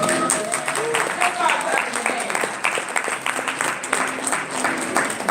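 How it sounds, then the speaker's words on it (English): An audience at the 18th annual Rustin/Lorde Breakfast claps steadily and fairly loudly throughout, a dense wash of hand claps with voices mixed in. "Start clapping."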